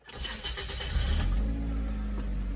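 A Ford Escape 2.3L Duratec engine cranks and fires up, quickly settling into a loud, close idle with a slight rattly texture.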